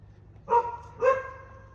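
Two loud, close barks from a dog outdoors, spaced about half a second apart, then quiet.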